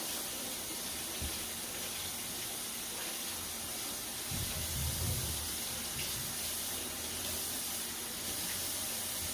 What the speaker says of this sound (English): you're gonna take this and you're gonna run it under some lukewarm water